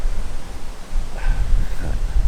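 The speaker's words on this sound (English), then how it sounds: "it is very windy right now" Steady wind roars and buffets the microphone with low rumbling gusts, and a faint higher whine rises briefly midway through.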